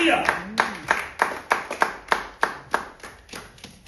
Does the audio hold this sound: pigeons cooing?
no